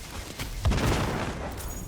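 An in-game explosion in Destiny 2 during the Guardian Games event, spawning a Warmind Cell: a sudden booming blast bursts out partway through over a busy bed of game sounds, then rumbles away.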